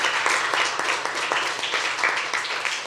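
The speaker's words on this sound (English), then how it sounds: "One more round of applause for the Scandinavia House." A conference audience at Scandinavia House applauds in a dense, steady wash of clapping, fairly loud and close, with no talk over it.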